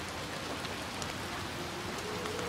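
Steady heavy rain from the video game Little Nightmares 2, a dense, constant hiss of falling drops filling the scene without pause, no voice.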